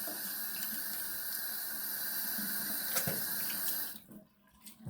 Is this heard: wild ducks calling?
no